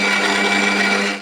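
A mixer grinder whirs loudly and steadily as it grinds ginger and garlic into a paste, a close, constant motor whine that cuts off abruptly at the end.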